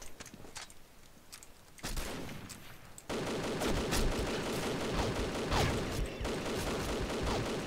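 AK-12 rifle gunfire in a video game, a rapid stream of close, loud automatic shots that grows denser and heavier partway through and keeps going to the end.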